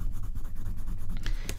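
Colored pencils scratching steadily across paper at close range, a continuous dry, papery scraping with a few sharper strokes near the end.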